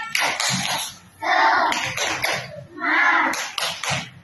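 A classroom of children claps and chants a rhythmic cheer in bursts, with an adult voice leading between the rounds of group clapping and shouting.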